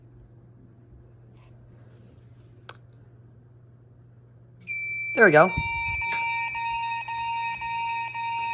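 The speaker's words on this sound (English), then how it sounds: "we're going to go ahead and pull the fire alarm here" A Radionics D7412G security system fire alarm kicks in after a quiet stretch, a loud, piercing electronic tone that holds steady and continuous once triggered, with a brief spoken remark just before it starts.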